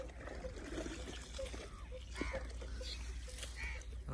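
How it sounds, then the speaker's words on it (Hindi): Irrigation water runs steadily from the last outlet pipe into a farm field, a soft continuous trickle and gush at moderate distance, with faint bird calls and distant background sounds. "कितनी स्पीड च पानी जा रहा है"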